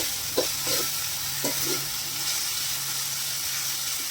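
Chopped onions sizzle and fry in hot oil with popped mustard seeds for a Kerala-style chicken curry, with a couple of soft stirring scrapes early on over a steady hiss.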